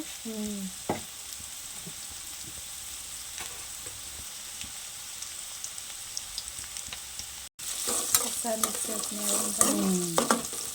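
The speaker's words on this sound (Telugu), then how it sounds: "అట్లా కలుపుతూనే ఉండాలి వేగేదాకా" Bitter gourd pieces fry in a pan with turmeric and salt while being stirred, a steady close sizzle under scraping stirs that grows louder and busier in the final few seconds.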